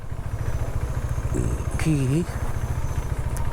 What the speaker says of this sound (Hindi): फर्स्ट गियर में ही चलो, ऐसे करके इंजन पे जोर डालो, न कि ब्रेक्स पे।